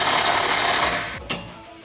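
A power tool driving an 18mm socket spins out the tow hitch bolts on a 1987-2006 Jeep Wrangler YJ/TJ: a loud, steady whirring buzz that winds down partway through, followed by a brief clunk.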